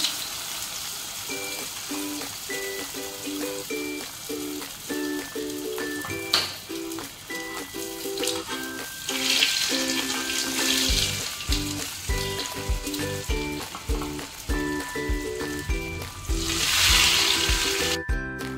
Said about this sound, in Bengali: চিকেন ক্যান্ডি, এই যে তেলটা গরম হয়ে গেছে, এবার দিয়ে দিলাম